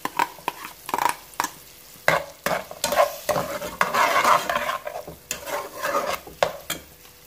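Onions stirred and frying in a pot, with a spoon scraping and clacking in uneven strokes over a soft sizzle, close and fairly quiet, no talking.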